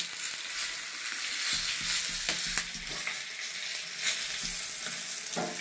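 Steady crackling sizzle of chilies stuffed with fenugreek and chickpea flour frying in hot oil over a high flame, with a few louder pops and spatters scattered throughout; no voices.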